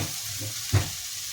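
Chicken curry ingredients sauté in a pan for a tomato-free curry, giving a steady close sizzle with a brief louder stirring scrape near the middle; no talking.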